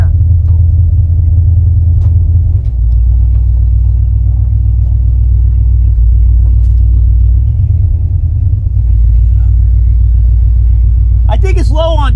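Old car idling rough while running rich and low on fuel, a loud, deep rumbling engine with uneven dips and surges throughout, and a brief burst of voice near the end.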